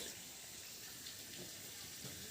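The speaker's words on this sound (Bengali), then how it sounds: "তারপরে অ্যাড করে দিচ্ছি অল্প একটু জল" A little water poured into frying ginger-garlic masala for egg biryani makes a continuous soft rushing hiss, steady and close for the whole short stretch.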